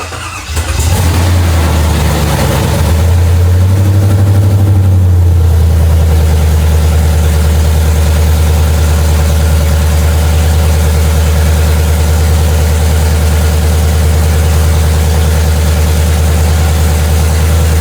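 A rebuilt truck engine with a mechanical fuel pump cranks briefly, catches and settles into a loud, deep, steady idle with a constant low rumble, close by and with no voices.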